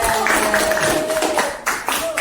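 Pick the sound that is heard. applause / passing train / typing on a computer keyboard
applause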